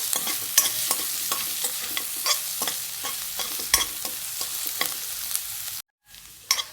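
Onion fries in a pan while being stirred repeatedly, with a steady bright sizzle and regular scraping strokes. A brief silent gap comes near the end before the frying sound returns.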